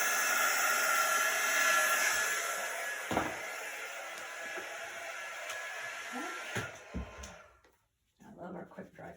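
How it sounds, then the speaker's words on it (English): A quick-dry heat tool blows with a steady, loud airy hiss for most of the stretch, then cuts off abruptly near the end, leaving a short quieter tail with small handling noises. "I love our quick dry tool."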